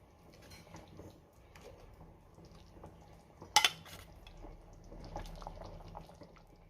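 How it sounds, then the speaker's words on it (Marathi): Home-cooked Marathi cowpea curry topped with coriander is ladled from the pot into a bowl, with one sharp clink of metal against the vessel amid soft scraping and liquid sounds. No one speaks. "वरतून मी थोडी कोथिंबीर घालते आणि भाजी एका बाउलमध्ये काढून घेते"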